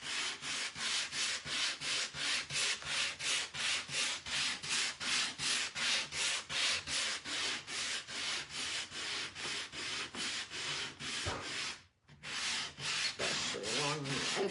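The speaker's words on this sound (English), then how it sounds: "Now, take my sander." A power sander works over painted wood close by, its rough whirring grind pulsing in rapid, even strokes with one short stop before resuming, no voices over it.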